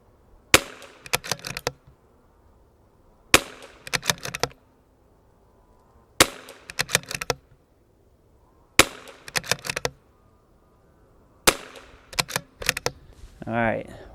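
A CZ 457 rifle with a 26-inch Lilja barrel fires a five-shot group, each loud, sharp report evenly spaced a few seconds apart and followed by a brief clatter of bolt cycling.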